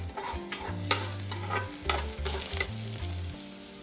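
Cinnamon, cloves and ginger roast in a pan for bottle gourd kofta gravy, with a gentle sizzle and a few scraping stirs close by, while soft music plays underneath.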